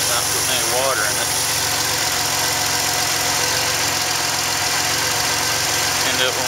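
A car engine fitted with a venturi pump that draws water vapor into the intake runs steadily at idle, a loud, continuous mid-pitched drone with a faint knock, heard alone without talk.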